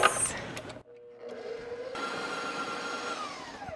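Butter, brown sugar, cinnamon, salt and baking soda for fig cookie dough are churned in a mixer, a steady whirring drone that starts after a brief pause and holds evenly, fairly loud and with no talk over it.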